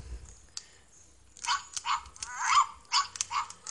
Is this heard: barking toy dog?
yes